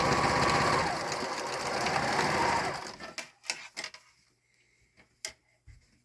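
A sewing machine sews a coin purse made from recycled denim jeans, whirring continuously for about three seconds before stopping, followed by a few sharp, scattered clicks and handling taps in near silence.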